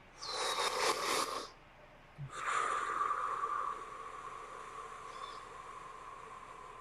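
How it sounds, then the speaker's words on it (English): Two loud, breathy rushes of air, a long inhale then a longer exhale, close up with no talking. "I'm breathing kind of loud so you can hear the breath."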